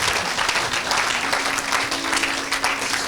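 A church congregation applauds steadily throughout, a dense wash of many hands clapping at once, loud and close, with no break in the sound.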